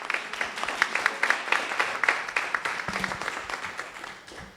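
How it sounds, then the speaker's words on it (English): Audience applause at a campus panel discussion: a steady wash of many hands clapping at moderate distance, continuous across the whole stretch and gently fading toward the end. "Give me a round of applause."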